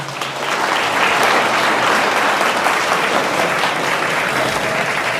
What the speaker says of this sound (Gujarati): એના માટે જોરદાર તાળી થઈ જાય